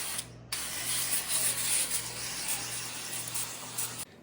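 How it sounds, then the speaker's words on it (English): A steady hiss of avocado oil spraying from a nearby can onto corn tortilla taquitos, running continuously for about three and a half seconds before cutting off. "I'm going to spray the flautas, or taquitos, with avocado oil"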